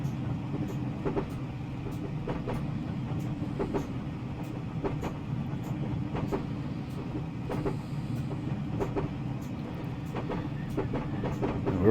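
A Class 506 electric train rolls slowly at about 10 mph over a very high viaduct in Train Simulator Classic, giving a steady low rumble with regular clickety-clack wheel beats throughout.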